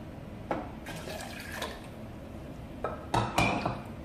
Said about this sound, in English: I'm going to add about 2 cups of water